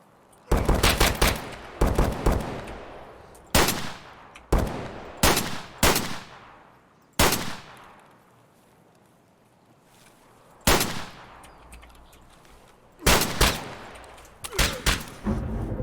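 Gunshots in Escape from Tarkov, loud sharp single shots and short bursts fired at irregular intervals, each with a brief echoing tail, with quiet pauses between them.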